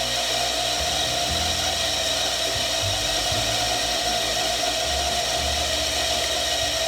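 Loud, continuous high whine of a spinning grinding wheel sharpening a half-inch twist drill bit, with a steady mechanical hum underneath, unbroken for several seconds with no voices.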